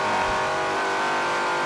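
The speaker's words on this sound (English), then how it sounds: "Beautiful sound of muscle car racing here." Trans Am muscle race cars accelerating hard around the Road Atlanta circuit, their loud, steady, dense engine roar filling the whole stretch without a break.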